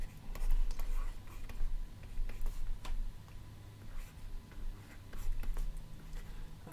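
Chalk or marker writing an equation on a board during a plasma physics lecture, soft scratchy strokes and taps in irregular bursts, close and fairly quiet over a low room hum.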